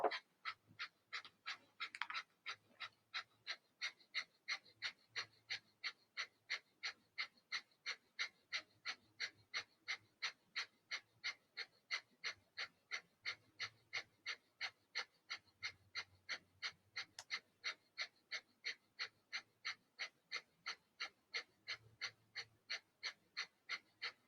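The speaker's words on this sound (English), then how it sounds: "Take a quarter breath in and begin another fire breath." Rapid, rhythmic breath-of-fire panting during a yoga session, a long steady train of sharp, evenly spaced exhalations, close and fairly quiet, with no talking.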